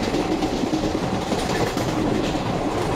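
Sayaji Nagari Express running at speed on Indian rails, a loud, close, continuous rush of rolling wheels and rattling carriages with clickety-clack texture throughout.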